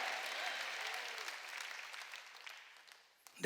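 Congregation applauding during a Sunday church service, a broad wash of many hands clapping that gradually thins and fades, ending with a sudden close bump.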